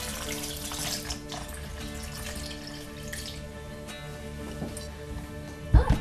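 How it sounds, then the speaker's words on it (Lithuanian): Water poured into a mixture while preparing a food or drink at a phyto bar, a steady trickling, splashing flow heard up close over six seconds, ending with a couple of brief sharper knocks. "Ir pilame vandenį."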